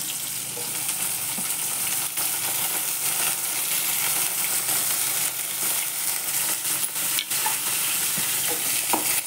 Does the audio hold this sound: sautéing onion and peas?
yes